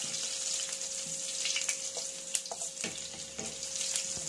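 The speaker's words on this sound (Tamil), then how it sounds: "கடுகு நல்லா பொரிஞ்சுக்கணும்" Mustard seeds splutter and crackle in hot oil in a pan, a steady close sizzle dotted with sharp pops, with no voices.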